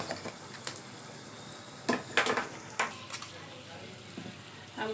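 Soft frying and sizzling of egg dum masala curry in a pan, a low continuous hiss broken by scattered light pops and a few clinks of utensil stirring, faint and close.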